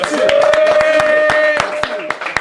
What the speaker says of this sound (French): Applaudissez-les, les gars